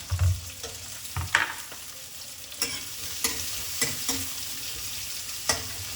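Sliced shallots frying in hot oil in a pan, a close, steady sizzle broken by several scraping stirs at irregular intervals.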